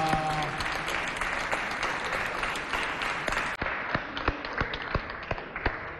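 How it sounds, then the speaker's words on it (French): Applause from an audience at a Chadian fashion show, a dense steady wash of many clapping hands with a few sharper near claps standing out toward the end. "Mais applaudissez pour elle quand même"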